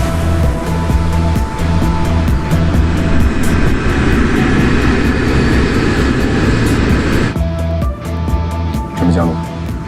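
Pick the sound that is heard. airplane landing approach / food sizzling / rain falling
airplane landing approach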